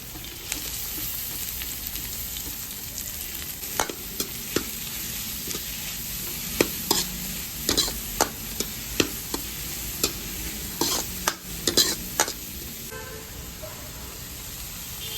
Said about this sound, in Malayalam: അരിഞ്ഞു വെച്ചിരിക്കുന്ന ക്യാബേജ് ക്യാപ്സിക്കം ഇത് രണ്ടും ചേർത്ത് കൊടുക്കാം